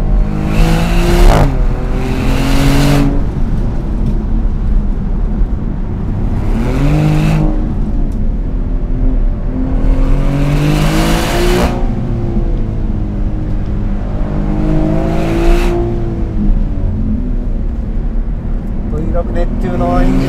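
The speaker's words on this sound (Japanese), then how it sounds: "ネプテューノエンジンのサウンドとこのフィーリング最高ですね。" A Maserati GranCabrio Trofeo with its Nettuno engine, driven on a winding road in sport mode. Repeated surges of revving rise and fall as it accelerates, loud and close from inside the cabin, with someone talking over it.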